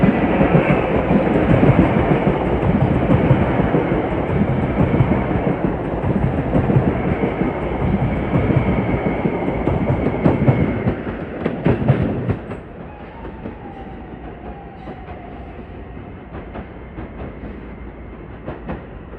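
Metro-North commuter train arriving on the Harlem Line in the evening: loud steady rumble and clatter of wheels on rail, with faint squeals, then it eases and fades into quieter rolling noise.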